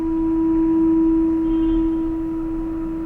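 Resonating in a PVC pipe during a speed-of-sound experiment, a loud, steady, pure tone hums continuously for the whole stretch with no other sounds over it.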